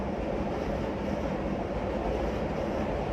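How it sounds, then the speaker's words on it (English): A passing train heard as a steady low rumble and broad roar, constant and moderately distant, with no voices over it. "I know that there's a train passing by right now, and you might hear that."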